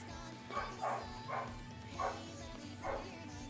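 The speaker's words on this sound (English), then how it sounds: "I don't know why that dog was barking crazily" A dog barks somewhere in the background, five fairly faint, evenly spaced barks over a steady low hum.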